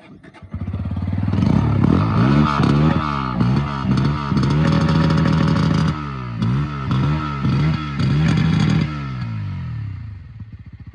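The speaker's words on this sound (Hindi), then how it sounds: "अब एग्जॉस्ट नोट अगर मैंने बोल दिया तो सुना भी देता हूं आपको एग्जॉस्ट नोट।" A 160cc motorcycle exhaust heard up close, idling and then blipped through a string of sharp revs that rise and fall before settling back to idle.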